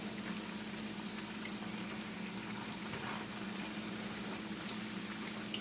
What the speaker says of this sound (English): This grease is good and hot, but it cooks the fries good when it's real hot.